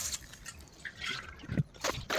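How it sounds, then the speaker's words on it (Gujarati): Water drawn out of a tank splashes and trickles in short, uneven bursts, fairly faint and close, with no voices. "ટાંકામાંનું પાણી કાઢવાનું ચાલુ કરી નાખ્યું."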